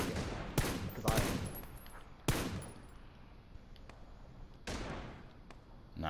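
Gunfire in PUBG: several sharp rifle shots crack out in an irregular sequence, loud bursts with short decaying tails, two close together early, then spaced single shots with quieter pops between.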